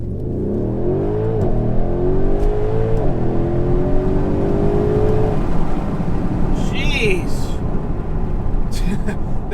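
A Mercedes GLC63 AMG engine revs hard under acceleration, its pitch climbing through rising sweeps with a shift partway, heard from inside the cabin with wind and road noise after.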